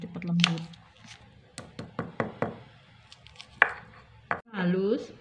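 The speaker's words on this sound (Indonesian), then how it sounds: "Ini kita potong-potong biar cepat nguleknya, biar cepat lembut." A knife chops garlic and white pepper on a board: a run of sharp, fairly close knocks with quick irregular strokes, with someone speaking before and after the cuts.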